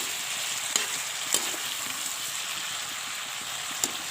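Ginger and garlic spice paste frying in a pan without salt or turmeric, a steady close sizzle with a few sharp crackles and spatula taps scattered through.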